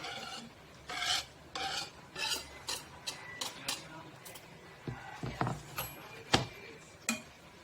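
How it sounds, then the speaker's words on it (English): Chopped chicken pieces are stirred into a Thai peanut sauce, making a run of soft, rhythmic rasping and scraping strokes of a utensil against a bowl, close and fairly quiet. "I just dump it straight into the sauce and mix together."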